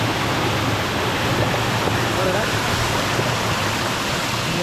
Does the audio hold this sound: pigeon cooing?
no